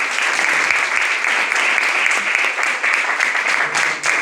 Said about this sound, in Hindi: नसीब खान सर के लिए जबरदस्त तालियां।